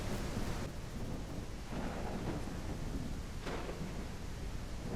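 Steady heavy rain hisses through a survival video game while low thunder rolls beneath, loud and continuous with brief swells, no voices.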